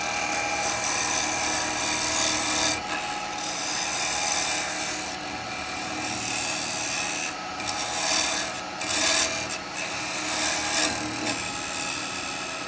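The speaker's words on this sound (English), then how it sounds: "I'm going to use a square carbide." A square carbide tool cuts wood on a lathe while turning a cauldron smoker, making a steady, close, harsh rasping scrape with brief dips and surges as the cut changes, over a high constant whine and no talk.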